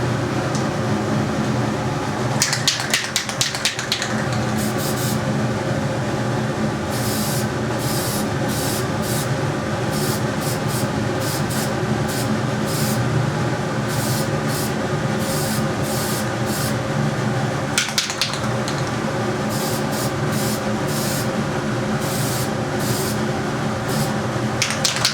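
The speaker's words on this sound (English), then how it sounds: "So we're going to take the orange here and spray the top of the canopy" Spray can hissing as orange paint goes onto the top and edges of an RC helicopter canopy, a steady broadband rush running throughout with short repeated bursts and pauses.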